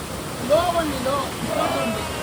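The Bandaje waterfall at the end of a forest trek gives a constant broadband rush of falling water, steady and enveloping, with faint voices thinly audible over it.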